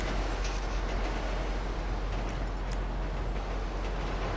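A train passing in the video game GTA 5, a steady dense rumble with faint clattering from the rails, continuous and fairly quiet with no talk over it.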